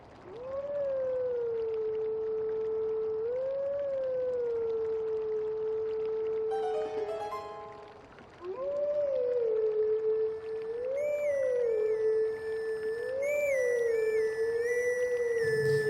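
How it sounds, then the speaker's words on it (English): Wolf howling a melody in Zelda: Twilight Princess, a long wavering tonal howl rising and falling over several phrases, broken by a short chime-like flourish midway, then resuming with sparkling high game tones joining near the end. "I want to play the song as a wolf."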